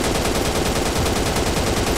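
Continuous rapid automatic gunfire in the video game Ratman, a loud, close, evenly paced stream of shots with no pauses and no talking.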